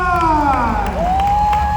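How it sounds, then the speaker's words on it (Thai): A crowd claps and cheers for futsal players lined up after a school sports-day match, a steady wash of applause and shouts with a few voices rising above it. "ขอเสียงปรบมือกับนักกีฬาของทีมด้วย"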